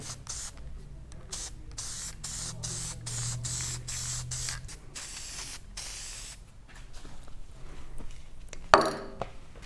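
Permatex spray adhesive misted onto car seat foam in a rapid series of short hissing bursts, then a longer continuous spray, close and fairly quiet.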